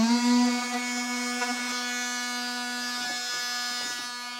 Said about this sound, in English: Multi-tool works really, really good for this, so I'll get this cut out.